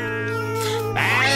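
A loud, close cat meow stretches out and rises into a strained, yowling cry.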